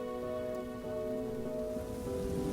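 Steady rain falls at night with a constant, even patter and hiss, alone and close around.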